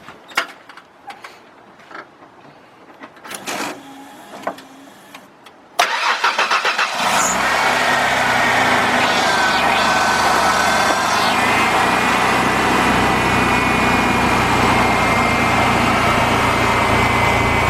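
A 1995 Ford F150 pickup with the 4.9 engine, heard first as a few quiet clunks and then cranking briefly and catching. It settles into a loud, steady close idle that runs without talking.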